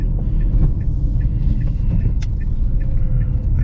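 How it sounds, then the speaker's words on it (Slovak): Tyres of a Dacia Duster Expression ECO-G 100 rolling over uneven road, a steady low rumble from inside the cabin with light thumps and rattles as the bumps pass. "len počujete proste, jak pracujú gumy s tými nerovnosťami"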